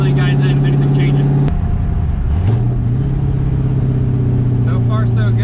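A 1969 Camaro drives along with a steady, loud engine drone, the pitch dropping briefly as the gear changes and then settling into an even cruise, with road noise throughout.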